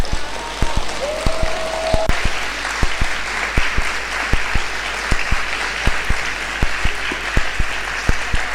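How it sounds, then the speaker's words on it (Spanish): An audience at a book fair in Avellaneda applauds after a presentation, loud steady clapping with sharp individual claps standing out near the microphone. "En este aplauso, el agradecimiento a Hernán Brienza por esta presentación que ha sido maravillosa"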